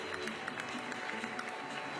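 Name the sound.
crowd applauding the orchestra musicians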